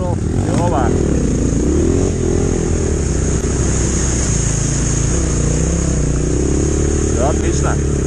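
Chinese enduro motorcycle on an off-road ride through water crossings, engine droning loud and close with rising revs throughout, with voices speaking over it at times.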